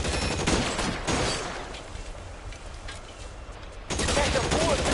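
Gunfire in the video game L.A. Noire: dense bursts of loud shots at the start and again near the end, with a quieter stretch of scattered reports between, and a voice speaking briefly amid the shooting.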